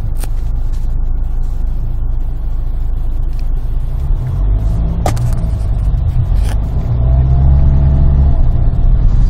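Hyundai Santa Fe DM engine running steadily while driving, a continuous low drone with the revs rising toward the end and faint road noise, no talking.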